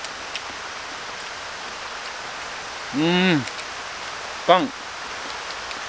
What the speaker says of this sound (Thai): โอ้ยฝน ฝนแย่มาเลย